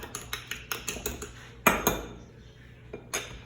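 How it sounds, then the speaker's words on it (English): A fork beats an egg on a plate in quick, rhythmic clinking strokes, close by, then slows to a few sharper, scattered taps. "you just crack that into the plate, give it a little"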